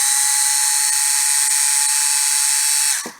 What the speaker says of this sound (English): just for drilling the odd hole in a shelf to attach a hook or a bracket